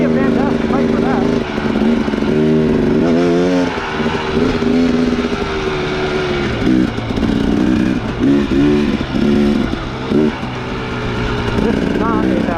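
A 2017 Husqvarna TX300 two-stroke dirt bike ridden slowly along a tight wooded trail, its engine droning and revving steadily and close by throughout, with throttle blips and surges between lower idling stretches.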